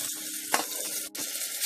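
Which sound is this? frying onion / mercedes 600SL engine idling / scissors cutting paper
frying onion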